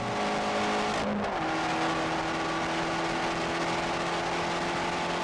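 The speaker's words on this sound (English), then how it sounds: "because of this exhaust note, you want to nail your heel toe just so you can hear yourself blip the throttle" A Fiat 500 Abarth's small turbo engine revs and drops with a quick throttle blip near the start, then settles into a steady exhaust drone, close and continuous with no talk.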